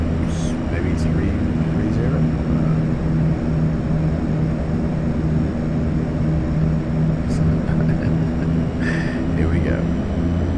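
The simulated engines of an Aerosoft Twin Otter on final approach to Grand Canyon National Park Airport in Prepar3D make a steady, loud, droning hum throughout, with someone talking over it.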